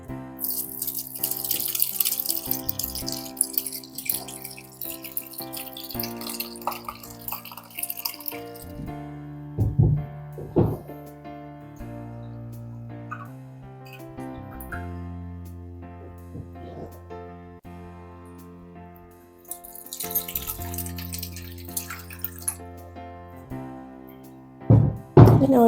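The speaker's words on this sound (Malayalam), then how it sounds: "അരിപ്പ വെച്ച് നമുക്ക് കുറച്ച് അതിനകത്തോട്ട് ഒഴിച്ചൊഴിച്ച് കൊടുക്കാം." Black raisin wine pours and drips through a strainer, with intermittent splashing and trickling liquid sounds set against soft background music.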